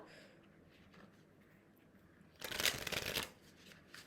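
Oracle cards shuffled by hand in a quiet room, one brisk riffle of about a second following faint handling rustles.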